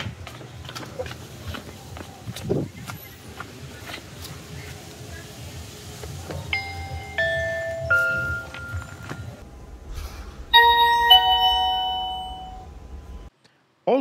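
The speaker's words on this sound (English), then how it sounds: "still the receiver will sound off the doorbell chime even there is no Wi-Fi connection" A soft electronic chime from a Xiaomi Smart Video Doorbell 3 receiver plays a short melody of ringing tones over faint background shuffling, then cuts off.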